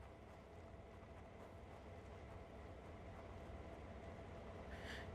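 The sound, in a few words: train engines rumbling in a video game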